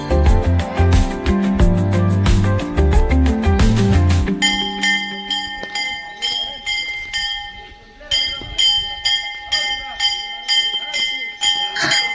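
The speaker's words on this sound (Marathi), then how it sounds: "इनके मंदिर जी घंटा काही थांबत नाही" A temple bell rings over and over in rapid, clanging strokes during Navratri, loud and close, with a crowd's voices and music underneath.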